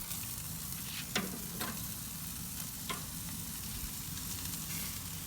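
Chicken tikka boti cooks on a grill with a steady, quiet sizzle and crackle, broken by a few sharp pops and clinks from turning pieces.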